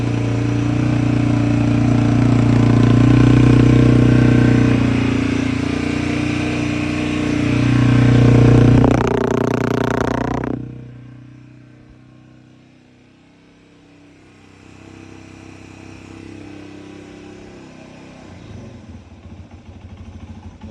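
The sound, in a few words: motorcycle engine cold start idling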